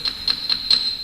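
Highest of a tuned wood block set spanning two octaves, struck four times at an even pace, each a short, bright, dry knock over a steady high ringing tone, close and fairly quiet.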